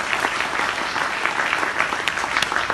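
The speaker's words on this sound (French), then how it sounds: "on peut l'applaudir très fort." An audience at a short-film festival screening applauds loudly, with continuous, dense clapping from a packed hall.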